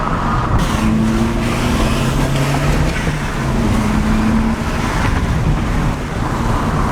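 A Toyota GT Turbo hatchback engine runs under steady load, a continuous loud drone with faint whistling turbo tones rising and falling across it.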